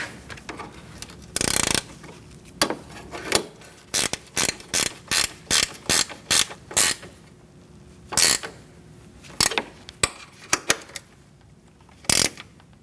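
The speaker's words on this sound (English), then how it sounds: "for that one on the inside, you're going to use a ratchet wrench to tighten it down" A ratchet wrench tightens a bolt on the cooling fan of a 2008-2014 Mercedes-Benz C300, with loud, close bursts of clicking in a steady rhythm of separate pulls and brief pauses between them.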